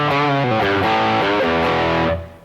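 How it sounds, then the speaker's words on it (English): An electric guitar plays with a crunch tone, a clean sound with light distortion: several loud strummed chords change in quick succession, then the last one rings out and fades. "crunch tone is basically a clean sound with a little bit more dirt or distortion on it."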